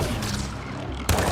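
Gunfire in the shooter game Mass Effect: Andromeda: a dense, rumbling volley of shots that runs throughout, with a sharper burst near the end.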